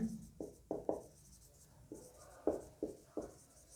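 Chalk or marker strokes on a board during a Class 10 physics lecture, a series of short scratchy taps and scrapes in an uneven rhythm, close and fairly quiet, with no talking.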